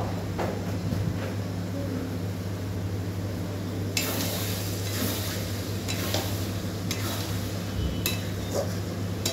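Tomatoes cook in a karai and are pressed to a paste with a spatula: a constant close sizzle with occasional scraping and clinking of the spatula against the pan.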